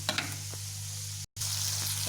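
Sweet and sour sauce ingredients stir-fry in a pan for chicken, giving a continuous close sizzle with a steady low hum, a few light utensil taps and a brief dropout in the middle.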